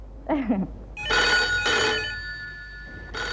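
A telephone bell rings in repeated bursts, loud and close, with a short spoken phrase just before the first ring.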